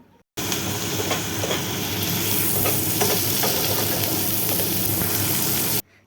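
Peas being cooked for a school-event pasta dish are stirred in a hot pan, giving a dense continuous sizzle with scattered scraping and ticking from a spoon, close and fairly loud, with no one talking.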